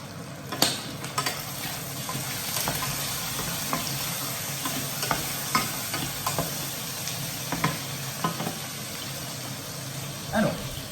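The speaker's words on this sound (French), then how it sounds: "Je n'oublie pas de mélanger un petit peu." Chicken samosa filling cooked with cinnamon is stirred in a pan, a steady low sizzle running throughout with occasional scrapes and clinks of the utensil against the pan.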